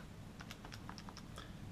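Quiet, quick taps on calculator keys while entering a math expression, about a dozen light clicks close by and alone.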